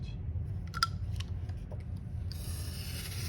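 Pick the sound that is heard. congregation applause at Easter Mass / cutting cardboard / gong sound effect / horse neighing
cutting cardboard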